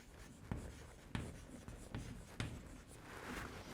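Pen strokes writing by hand during a physics lecture on conduction and valence bands, quiet scratching with several sharper taps spaced irregularly, close and faint, with no talk.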